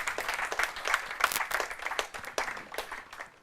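Audience applause at a university law debate contest, many hands clapping in an irregular, rolling burst with sharp individual claps standing out, moderately distant, fading slightly toward the end.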